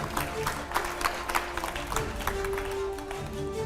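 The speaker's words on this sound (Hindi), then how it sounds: "वाह, तालियां बजती रहनी चाहिए।" A studio audience claps steadily to welcome politician Manoj Tiwari onto a talk show. The applause is dense and sustained, with a faint tone running underneath.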